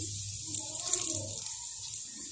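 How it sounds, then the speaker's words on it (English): Hot oil poured into moong dal flour gives a soft, faint hiss and trickle, a brief steady wash of sizzle with no voices over it. "Pour the hot oil and then wait for some time."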